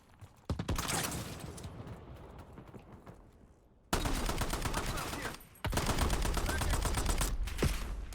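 In the Black Ops 7 video game, bursts of gunfire crackle in dense rapid volleys with a few sharper single shots, loud and busy, switching abruptly between sections.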